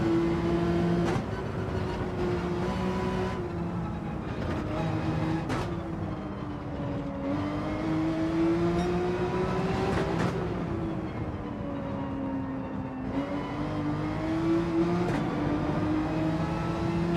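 Race car engine in Gran Turismo 7 during a Group 2 race at Watkins Glen, revving steadily with rising and falling pitch as gears shift, continuous and loud throughout with no talk.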